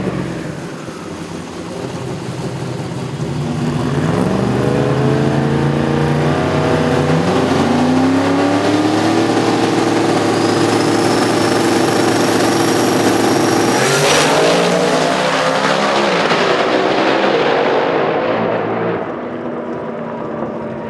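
Pro mod drag race cars launch and accelerate down a quarter-mile strip at Las Vegas eliminations, a loud roaring engine wail rising in pitch and holding for several seconds before fading as the cars pull away.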